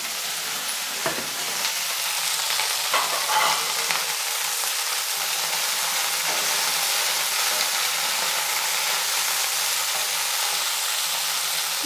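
Vegetables for a pumpkin and cauliflower kurma sizzle steadily in a pan, a loud, continuous frying hiss with a few faint stirring scrapes and no talking.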